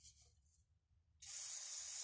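Cleaner sprays onto a hydraulic lifter ball and spring in a workshop: a quiet stretch, then a close, steady hiss that starts abruptly and runs to the end.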